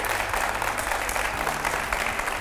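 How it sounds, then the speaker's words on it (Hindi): Steady applause from a crowd, dense clapping sustained throughout without pause. "एक बार जोरदार तालियां हो जाए।"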